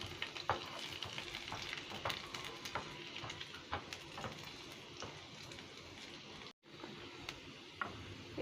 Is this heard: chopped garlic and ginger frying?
yes